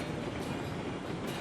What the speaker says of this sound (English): you can just listen to the nice clickety-clack of trains, that sound you get, you know, when you're in like a passenger train